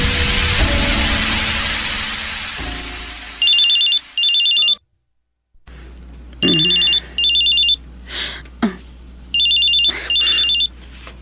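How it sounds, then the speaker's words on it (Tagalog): A cellphone ringing with a repeated electronic ringtone in short double bursts, coming back several times after a brief silence, loud and close over a low background hum, with a faint voice between rings. "Nagre-ring ang cellphone mo."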